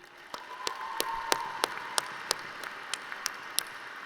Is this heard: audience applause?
yes